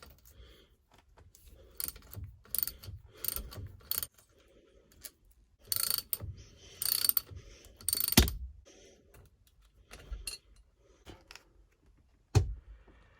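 Repeated ratchet clicks in short bursts, close and moderately loud, as a 1/2 inch socket works loose the seat bolts of a 1968/69 Ford Fairlane/Torino fastback, with sharp metallic knocks between the bursts.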